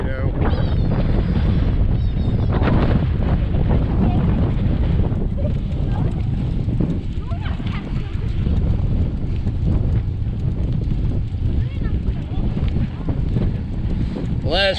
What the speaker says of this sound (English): It's really, really windy now.